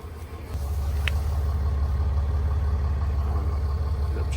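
Diesel car engine idling steadily, a close, low rumbling drone with a constant rhythmic throb, heard alone without talk.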